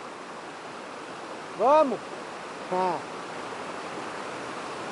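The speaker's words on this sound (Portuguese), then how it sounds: "Cachoeira do Batistão" Steady rushing water of the Batistão waterfall fills the scene as a broad, constant roar, with two brief spoken words standing out above it partway through.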